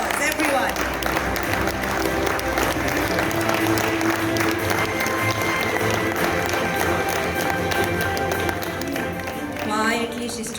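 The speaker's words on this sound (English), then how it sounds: "big round of applause, everyone." An audience at a philanthropy awards night applauds, a continuous, loud spread of clapping mixed with music and crowd noise that runs throughout without a break.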